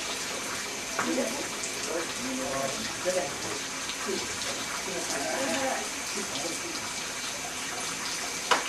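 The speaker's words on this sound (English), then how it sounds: "After we drain it, all the water, then we have to soak it in the clear water and clean water to wash it thoroughly" Water draining from a rug dye bath during Tibetan rug making, a steady running and splashing wash of liquid that continues throughout at moderate level, with faint voices underneath.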